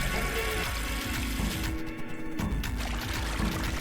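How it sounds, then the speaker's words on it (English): Water gushes steadily from a tap into a blocked sink in the video game Zero Time Dilemma, a loud continuous pouring rush that briefly dips before resuming. "now to turn on the water"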